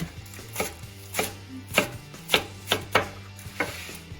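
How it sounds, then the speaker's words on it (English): A knife chops fresh spinach on a cutting board in about ten crisp, evenly spaced strokes, close and fairly quiet, with a low steady hum behind and no talk. "We're going to chop it up."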